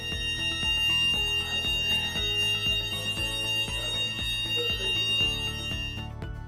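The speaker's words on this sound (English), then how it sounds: "Emergency alarm inside office sounds like this." An office emergency alarm at an oil and gas terminal rings continuously, a dense metallic bell-like clang with a rapid repeating pulse, loud and steady throughout without any voices.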